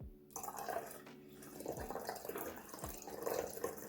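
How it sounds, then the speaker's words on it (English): Melted butter, rose water, vanilla and mixed essence are poured into milk for sweet potato pudding, giving a close, steady liquid splash with a few thumps of the container, no talk. "I'm gonna pour everything into the milk."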